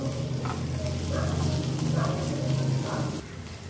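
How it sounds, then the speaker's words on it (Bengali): Cashews, melon seeds, cinnamon, cloves and cardamom frying in a pan give a steady, close sizzle with soft stirring scrapes, which drops away sharply near the end. "সব দিয়ে আগে এটাকে ভেজে নেব।"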